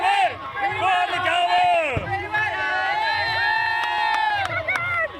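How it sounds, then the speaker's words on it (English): Northern Ireland supporters at a Euro 2022 women's football event raise a loud, sustained cheer with shouting and whoops close around, voices swelling and holding throughout. "let's end this with just one big cheer for Northern Ireland tonight"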